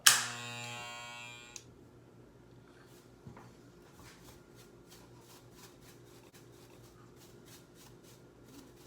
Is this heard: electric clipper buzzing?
yes